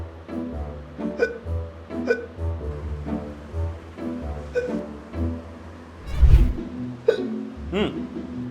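A person hiccuping repeatedly, sharp hiccups recurring about once a second, some people talking over them and a louder thump-like burst partway through.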